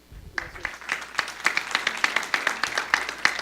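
Applause from a conference audience welcoming a university panelist, a moderate crowd of distinct claps in a fairly quick, uneven rhythm, heard alone and building slightly over a few seconds.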